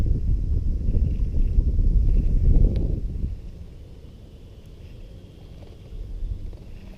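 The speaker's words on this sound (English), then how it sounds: "so much wind" Strong wind buffets the microphone on a bass fishing boat on a Florida lake, a loud low roar for about three seconds that then drops to a steadier, quieter gusting rumble.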